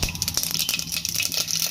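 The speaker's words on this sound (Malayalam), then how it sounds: "കടുക് പൊട്ടിക്കഴിയുമ്പോൾ" Mustard seeds popping in hot oil, a dense run of tiny crackling pops over a steady frying hiss, close and fairly loud with no voices.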